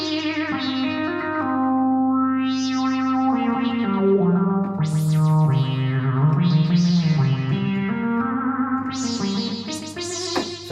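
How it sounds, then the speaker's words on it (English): Korg MS2000 resonant synth lead with delay, playing funky sliding and sweeping lines with bright filter sweeps, a continuous loud phrase trailed by echo and reverb, no voices. "The G sound, which is the res lead, which is put a bit of delay on that."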